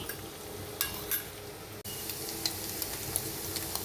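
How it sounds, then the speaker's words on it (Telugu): Cabbage and beaten egg frying in a pan over a high flame, a steady soft sizzle with a few light scrapes and taps of a spatula, no voices. "కొద్దిగా క్యాబేజ్ హై ఫ్లేమ్లో ఫ్రై చేసుకోవాలి."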